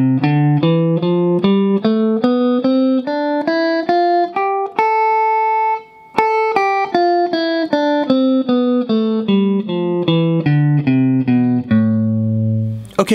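Guitar plays a natural minor scale in the G position note by note, ascending then descending at a steady even pace, each note clear and close, with no voices.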